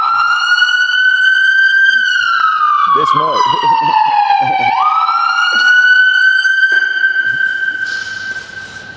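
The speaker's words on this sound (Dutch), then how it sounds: "Dat is ook wel echt een Amerikaanse sirene." An American-style electronic siren on a tow truck wails loudly and close, sweeping up and down in pitch with a brief tone change midway; someone speaks briefly over it.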